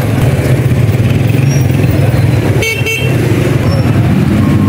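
Heavy traffic jammed in Urdu Bazar, Lahore, with a constant loud roar of engines and motorbikes, a couple of short horn toots near the middle, and voices mixed into the street noise.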